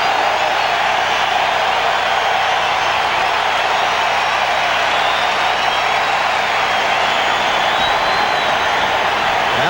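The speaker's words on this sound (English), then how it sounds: "this huge crowd at Jacobs Field really into this one early" A big, roaring baseball crowd at Jacobs Field during a 1997 World Series game, Florida against Cleveland, keeps up a steady, dense wash of cheering and murmur throughout, with no break.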